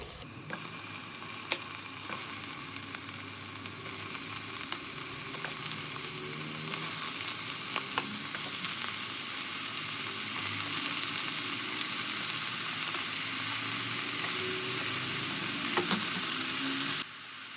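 Sheep head meat fries with onions in a pressure cooker with a continuous, even sizzle and occasional faint stirring clicks, close up and without speech.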